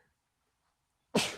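A single sudden, forceful sneeze bursts out after a moment of near silence, close and loud.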